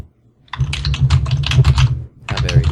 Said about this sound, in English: I can hear my keyboard.